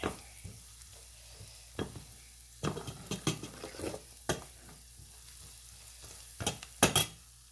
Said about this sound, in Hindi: तो अब हम इसको करेंगे बुनाई, अच्छी तरह बुनाई करके